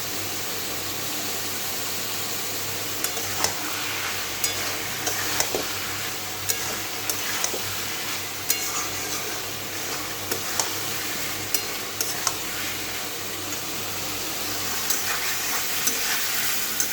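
Prawns fry in hot oil in a pan with a loud, continuous sizzle, broken by scattered scrapes and clicks of stirring, close up and without talk.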